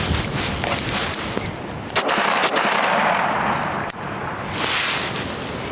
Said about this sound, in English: Now we're going to fire 2 shots.